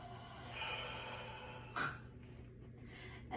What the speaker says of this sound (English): sit straight up, deep breath in